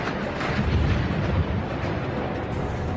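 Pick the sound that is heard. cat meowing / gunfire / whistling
gunfire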